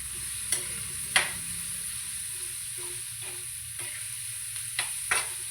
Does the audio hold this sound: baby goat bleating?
no